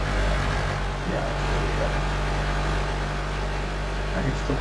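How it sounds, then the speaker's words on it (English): A truck engine in the driving video game Drive Beyond Horizons produces a steady, low droning hum with a constant pitch. It stays loud and continuous, with faint voice-like sounds mixed in. "I can still hear the truck."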